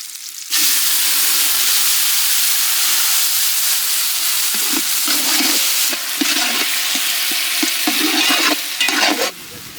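A sudden loud burst of sizzling as ground tomato is poured into a hot pan, continuing as a strong hiss with some stirring scrapes before easing off.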